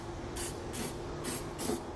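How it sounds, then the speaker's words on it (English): Spray paint hissing onto bare metal on a 2015 Subaru Forester trailer hitch setup, four short close bursts at an even rhythm with brief pauses between them and no talking. "take a little bit of spray paint or something like that and shoot it on there"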